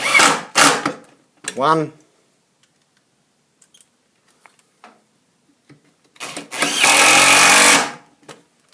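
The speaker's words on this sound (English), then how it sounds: "Using our driver drill, screw home the screws." A short burst of cordless driver drill whirring near the end as screws are driven in fitting a roller blind, preceded by brief talk and a quiet pause with faint clicks.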